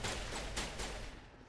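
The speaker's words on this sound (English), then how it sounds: "This is still the shotgun." Shotgun blasts in a first-person shooter video game: a few loud, sharp booms close together, each with a short ringing tail, fading as the clip ends.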